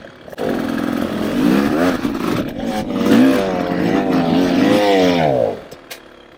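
A 2024 Beta 300RR Race Edition two-stroke dirt bike ridden off-road, its engine loud and close, rising and falling in pitch as the throttle works over rough ground, then cutting away abruptly near the end.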